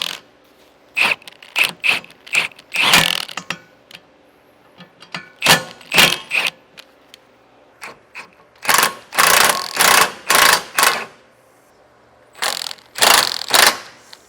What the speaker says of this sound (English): If you're using an impact, make sure that you definitely stop before the head fully rests against the inside of our slipper spring box.